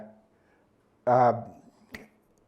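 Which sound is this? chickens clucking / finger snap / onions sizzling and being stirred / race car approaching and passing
finger snap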